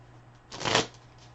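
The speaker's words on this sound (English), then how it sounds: "I'm going to bring in the Gypsy Oracle cards" Gypsy Oracle cards shuffled once in a quick riffle, a short crisp burst of papery flutter about a second long, close and clear over a quiet room.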